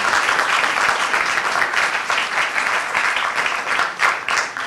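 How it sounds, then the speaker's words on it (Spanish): A crowd claps for two guest speakers at a public event, a loud, continuous round of applause with slight surges, close and filling the room with no talking over it. "Un aplauso para el doctor Charles Walker y para la profesora Natalia Sobreviviente."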